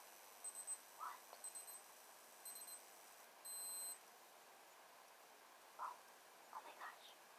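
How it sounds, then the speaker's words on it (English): A timer beeps in a quiet room, sounding faint, high, short beep bursts in a repeating pattern, with soft whispering and small rustles around it. "That timer was for me to stop chilling."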